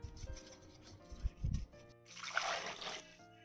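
Four oranges rubbed with a spoonful of salt, then splashed and sloshed in water, a short wet burst standing out after faint handling noises.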